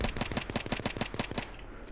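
Rapid pistol fire in Battlefield 3: about ten sharp shots in quick, even succession, loud and close, then stopping abruptly into a quiet game background.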